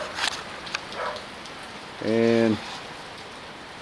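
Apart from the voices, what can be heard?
rain falling on a farm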